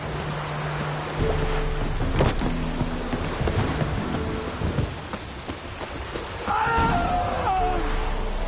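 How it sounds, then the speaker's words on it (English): Steady rain falls with low rolling thunder in The Witcher 3 on Fyke Isle, a constant hiss with deeper rumbles and a brief tonal swell near the end. "Looks like rain."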